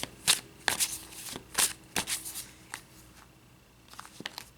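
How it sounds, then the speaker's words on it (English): Tarot cards are shuffled in short, crisp riffles and flicks, several quick bursts of papery snapping separated by brief pauses, close and fairly quiet with no talk. "Let me get some more cards for you."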